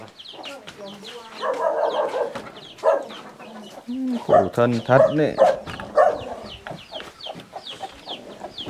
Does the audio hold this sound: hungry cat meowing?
no